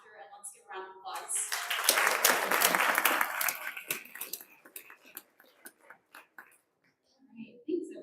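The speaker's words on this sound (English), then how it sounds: "let's give a round of applause" Applause from a conference audience at the BSides Idaho Falls 2025 security event swells quickly, peaks for a couple of seconds, then tapers into scattered claps, with voices murmuring underneath.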